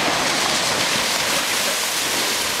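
Steady broadband wash of ocean surf at Santa Cruz state beach, a continuous loud roar of breaking waves with no pauses and no voices.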